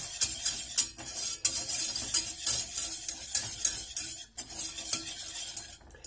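Flour frying in a pan is stirred with a utensil, giving a steady run of close, light scraping and clinking strokes over a faint sizzle, with no talking.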